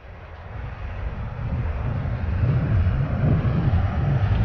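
McDonnell Douglas DC-9-32 touching down in a flight simulator, a low rumbling roar of engines and rolling wheels building steadily louder over a few seconds, close and continuous with no talking.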